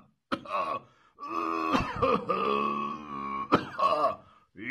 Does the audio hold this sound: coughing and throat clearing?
yes